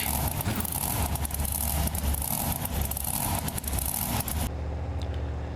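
Loud simulated monster truck engine from BeamNG Drive roaring steadily as the Mopar Magic truck drives out in an NRG Stadium arena, then dropping to a quieter, lower idle-like rumble near the end.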